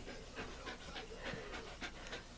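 A dog pants in quick, rhythmic breaths close by, a soft, breathy, steady huffing that continues throughout.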